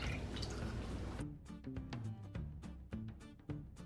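A cup of water is poured into salted corn flour for arepa dough, starting with a brief steady splashing pour and then a few scattered, close drips as it trickles out.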